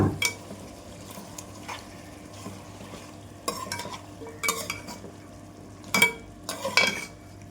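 Country chicken curry being stirred and mixed in a pot, with intermittent clanks and scrapes of a metal spoon over a faint simmering sizzle, the strokes coming in irregular bursts.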